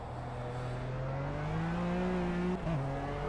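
A Lykan HyperSport racing at Mount Panorama in Project Cars, its engine droning loud and steady with a rising pitch, then a sharp dip and recovery as the car brakes into a corner.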